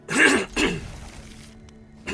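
Two short, harsh coughs burst out close to the mic, followed by a quieter stretch and the start of a third cough at the end, from someone playing a Wilds of Eldraine card draft.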